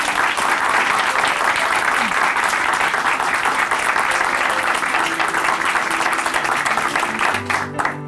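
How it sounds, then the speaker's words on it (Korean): A church congregation at a Chuncheon Hanmaeum Church testimony program gives loud, sustained applause, a dense wash of clapping from many hands that carries on for the full stretch before beginning to thin out. "큰 박수 보내드릴게요"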